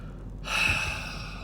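A single deep breath during breath work, a soft airy inhale swelling into a strong breathy exhale, close and alone without talk.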